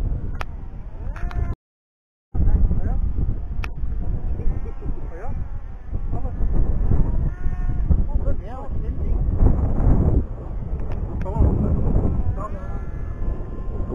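Strong wind buffets the microphone outdoors while a Parrot Disco drone is flown, gusty rumble throughout with people talking over it.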